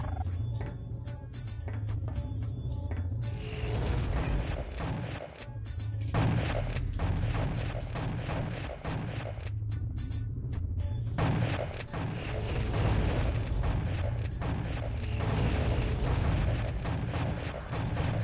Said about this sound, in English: you need to shoot at him with the shadow gun for him to actually die